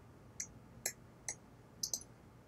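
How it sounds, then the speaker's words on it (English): Sparse keyboard typing in a quiet room, five or six light clicks spaced irregularly, faint and close with a low background hum. "Nice typing."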